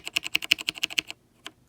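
A Havit 60% keyboard with brown switches being pressed: about a dozen crisp, evenly spaced key clacks close to the mic, then a pause and one last click, with no talking.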